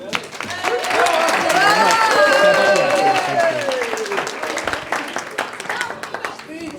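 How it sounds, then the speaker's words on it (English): Wedding guests applaud and cheer after a toast at a reception, a dense wash of clapping with voices and a whooping tone rising over it, fading toward the end. "So a round of applause for Mr. Steve."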